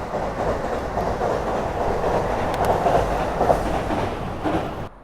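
A train rolls past on the rails in Nagoya, Japan, with a steady loud rumble and rhythmic clatter of wheels lasting several seconds before cutting off abruptly.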